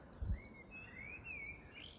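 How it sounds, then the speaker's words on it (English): Faint birdsong carries from a distance in Bakewell: high, thin chirps and short warbling phrases over a quiet outdoor hush, with one soft low thump near the start. "Birds are singing, nice peace and quiet, and the views."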